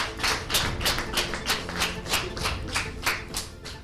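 Audience clapping at a children's day event, a rhythmic, fairly even beat of hands pulsing about three times a second, moderately loud with a hollow, close-up quality.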